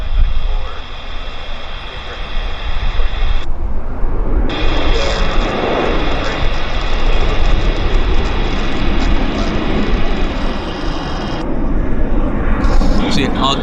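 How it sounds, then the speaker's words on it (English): Embraer jet climbing out overhead from Vancouver airport, a loud continuous roar filling the scene, with a voice talking over it. "Embraer's up. Climbing out for Salt Lake."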